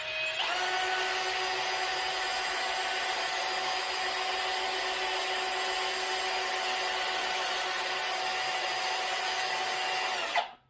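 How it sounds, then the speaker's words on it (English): A power drill whines steadily at high speed for about ten seconds, then winds down and stops abruptly. "Then use the drill."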